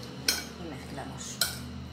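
Utensils clink twice against a bowl while a vegetable salad dressed with olive oil and salt is tossed, two sharp metallic taps over a quiet steady background.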